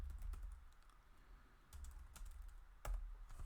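A computer keyboard clatters with quick, irregular keystrokes in small bursts, faint and close, over a low background rumble, with no speech.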